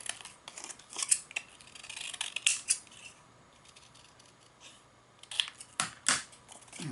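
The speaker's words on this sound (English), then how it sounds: "I'm going to turn your paper under your scissors." Scissors snip and slice through paper in short bursts of crisp cuts with pauses between, close up and moderately quiet, while clockmaking paper parts are cut along traced lines.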